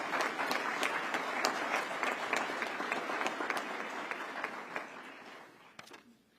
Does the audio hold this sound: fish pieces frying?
no